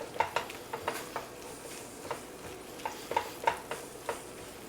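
Chicken pot pie filling thickening in a pot while a spoon stirs it, giving a series of soft scraping clicks and light bubbling at moderate level, with no talking.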